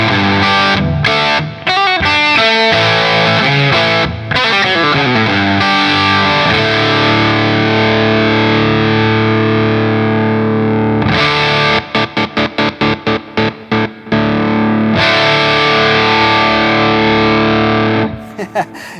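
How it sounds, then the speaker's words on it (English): Crunchy distorted electric guitar on the bridge pickup of a Backwing guitar, played through a Rev Generator 120 amp: loud, close chords and riffs with sustained ringing notes, broken by sharp stops and choppy staccato hits. "We got some crunch dialed in, courtesy of the Rev Generator 120."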